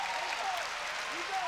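A knowledgeable crowd at cage side in Jakarta, Indonesia, applauding at a ONE Championship fight, a brief, moderately quiet wash of clapping under a commentator's voice.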